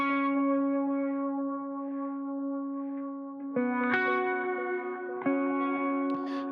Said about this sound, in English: a delay that is, I think, the secret sauce on this track